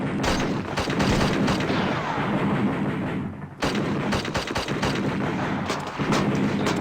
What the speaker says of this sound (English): I know that there's going to be a second round of shots coming down.